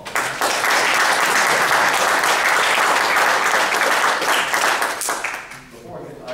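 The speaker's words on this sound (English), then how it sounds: "Let's give Pat Dolan an applause." Loud, dense applause from an audience at a county Republican Party meeting, a sustained wash of clapping that fades toward the end, with some voices mixed in.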